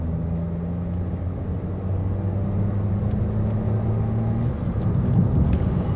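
Aston Martin Cygnet city car pulling away from a 30 zone toward a 50 limit, its small engine droning in a steady low hum that swells gradually, heard from inside the cabin with road roar underneath.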